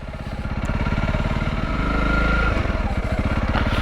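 A motorcycle engine runs steadily and loud while being ridden along a fen route, its close, pulsing low thrum holding throughout with slight shifts in pitch and load.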